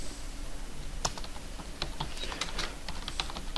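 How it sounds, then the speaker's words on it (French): Typing on a computer keyboard while entering author names into a library database table: scattered sharp key clicks at an irregular pace over a steady background hiss, close to the microphone, with no talking. "on va taper tous les auteurs que l'on va encoder par la suite"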